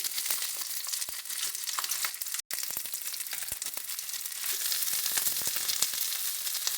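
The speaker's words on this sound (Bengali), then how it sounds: "এবারে আমরা পরিমাণ মতন এর মধ্যে তেল দিয়ে পেঁয়াজটা ভেজে নেব" Chopped onions frying in hot oil, a dense close sizzle with crackling pops and occasional stirring scrapes, steady throughout apart from one brief gap, with no speech.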